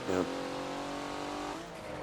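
A Porsche race car engine in Forza Motorsport at Hockenheimring, a short sharp rising whine at the start that settles into a sustained high engine drone, with a voice talking over it.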